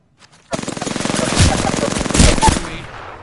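Rapid automatic gunfire rattles out in a video game, a loud, dense burst of closely spaced shots that keeps going for several seconds, swells in the middle and then cuts off.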